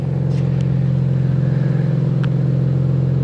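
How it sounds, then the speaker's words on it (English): A BMW E30 engine runs nearby with a deep, steady rumble from a custom exhaust, loud and unchanging for a few seconds. "It has a custom exhaust on it already."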